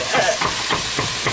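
Chili ingredients with taco seasoning browning in a hot pan give a dense, steady sizzle with scraping stirs, loud and close, no voices.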